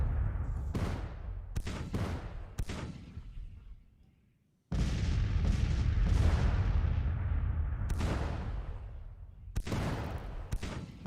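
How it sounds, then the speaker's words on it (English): Artillery bombardment in the Civil War strategy game Grand Tactician booms out in repeated heavy blasts and rolling gunfire, with a brief lull before the barrage resumes loud and dense. "we are bombarding the enemy most of the morning here"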